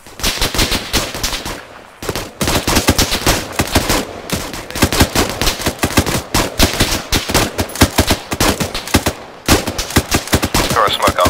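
Near, loud gunfire rattles almost nonstop through amphibious assault training by 40 Commando on a beach, mixing rapid automatic bursts with single shots and brief pauses.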